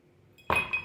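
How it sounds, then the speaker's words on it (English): Ice cubes drop into glass cups with a sharp clink followed by a second lighter clink, close and bright after near silence, with no talk. "let's get these ice cubes in the cups, and let's enjoy these on the rocks"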